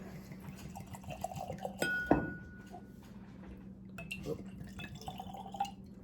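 Clyde May's whiskey poured into a glass, heard as soft close trickling and drips with a clear clink of glass partway through, while people talk quietly.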